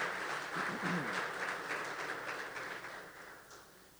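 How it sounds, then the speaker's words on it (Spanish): Applause from a church congregation, a steady dense patter of clapping that swells slightly and then gradually fades, with a faint voice underneath. "Un fuerte aplauso para ellos."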